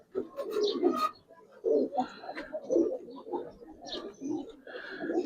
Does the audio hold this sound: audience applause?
no